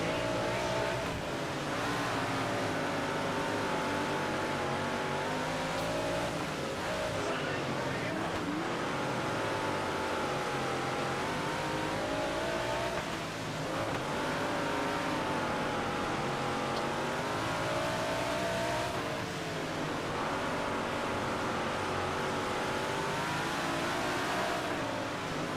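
Sprint car engine roaring continuously in World of Outlaws 24, a steady loud drone with rising and falling pitch as it revs through laps, with a voice talking over it at times.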